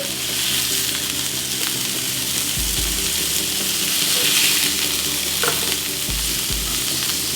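Three beef burger sliders sizzle loudly in a very hot pan, a continuous crackling fry broken by a couple of soft thuds and scrapes as the patties are flipped, with no one speaking.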